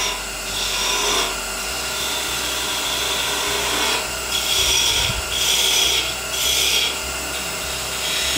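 A Thompson 3/8-inch spindle detail gouge scrapes and rasps steadily into spinning wood on a lathe while a small Christmas ornament is turned, with close, continuous cutting that swells in several louder passes and no talking.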